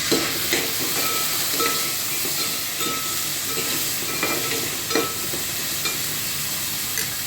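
Steady sizzling and hissing of potato pieces frying in a hot pan, with occasional stirring scrapes and light clicks, close and continuous.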